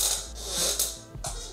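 A squeaky chair creaks close by, with a few rough, grinding squeaks and a pause between them, heard alone.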